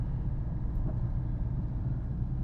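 Low, steady rumble of a car cruising in second gear through light Sunday traffic on a Chennai road, heard from inside the cabin without talk.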